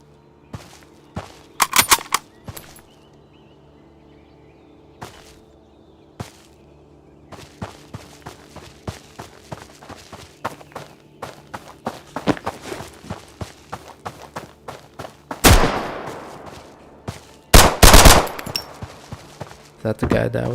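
Gunfire rings out in a shooter video game, starting with scattered single shots and short bursts, then thickening into heavier volleys with loud blasts near the end, mixed with footsteps and movement sounds.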